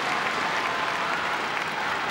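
Applause from the crowd at the 2013 All England Badminton Championships men's singles final after a rally: a dense, steady clapping that fills the whole moment at close range, with no talk over it.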